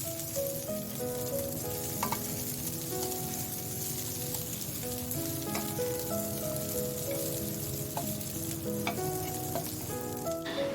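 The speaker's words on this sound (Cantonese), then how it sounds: "我而家呢，會倒埋落鑊，將佢煮返熱佢啦" Ready-made tofu poured into a wok and reheated sizzles steadily, a constant frying hiss with occasional clinks and stirring taps, close and alone without talk.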